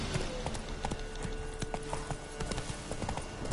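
Horse hooves in The Witcher 3 video game, a quick, steady clip-clop of hoof strikes running through the whole stretch, close and fairly loud over a low ambient bed.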